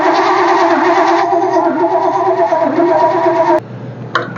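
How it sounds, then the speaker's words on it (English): The engine of a 1967 Pontiac Firebird that fails to start is cranked over in a loud, steady rhythmic churn for about three and a half seconds, then stops abruptly with a faint clunk after. "So actually, I'm going to roll it over a little bit more."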